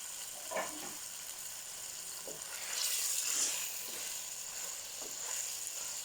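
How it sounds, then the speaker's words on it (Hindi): Chicken frying in a pan in melted fat while being browned for chicken makhni handi, a soft steady sizzle with a few brief clinks and stirring scrapes, rising slightly in the middle. "इसमें इसको भुनाई करूँगी मैं जब तक हमारा गोश्त वाइट नहीं हो जाता, कलर चेंज नहीं कर लेता"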